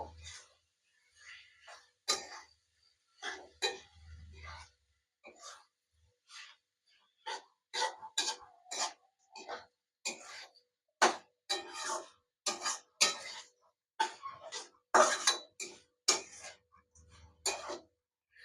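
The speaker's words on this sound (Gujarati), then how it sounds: "અને હવે આપણે આ સેવ નાખશું આપણે હવે આને મિક્સ કરી દઈશું" Sev being stirred into upma in a pan, heard as a quiet, irregular run of soft scraping and clinking strokes with small gaps between them and no talking.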